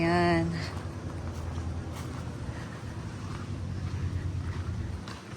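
Wind blowing at a white-sand beach, a steady broadband rush with gusty low rumble and mic buffeting throughout, with a brief voice at the start.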